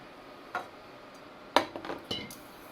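Cookware set down on an IKEA Tillreda induction cooktop, heard as a few light metallic clicks and knocks spread over a couple of seconds, close and fairly quiet.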